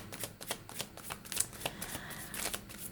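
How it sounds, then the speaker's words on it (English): A deck of tarot cards is shuffled by hand, a rapid run of soft riffling flicks and light slaps, close and fairly quiet, with no talking. "as I shuffle the cards, you may notice that cards will literally fly out of the deck"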